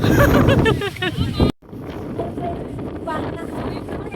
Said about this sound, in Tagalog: Kaya sobrang lakas talaga ng hangin.